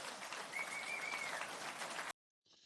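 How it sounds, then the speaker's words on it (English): Applause from an audience in a packed room at a political panel, steady and dense clapping for about two seconds, then a sudden cut to silence followed by a brief faint sound. "Just about everybody in that room clapping."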